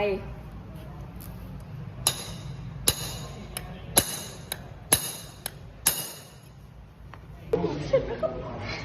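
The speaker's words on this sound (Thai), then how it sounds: "นำตะปูคอนกรีตและคอนมาตอกเพื่อให้เกิดรอยบุ๋ม" A hammer drives a concrete nail into DB12 SD40 deformed steel rebar to dent it, giving about half a dozen sharp, ringing metallic strikes spaced roughly a second apart, with quieter taps in between.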